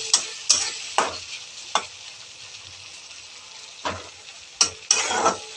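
Bombil (Bombay duck) fish fry in a pan over a low gas flame, with a soft steady sizzle broken by several sharp scraping stirs and clacks at uneven intervals, close by and without talk.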